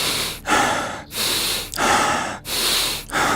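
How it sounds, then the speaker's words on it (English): Rhythmic breathing drill done seated, cross-legged: four strong, hissing breaths follow one another in quick succession, each roughly half a second apart with brief gaps between, close and loud with no talking. "Stomach breathing and go."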